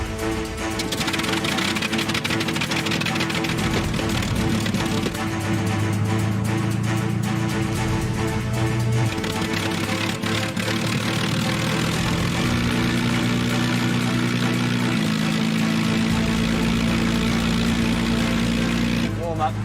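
A Spitfire's piston aero engine runs loud and close, a continuous deep drone that steadies into an idle with shifts in pitch partway through, under occasional talk.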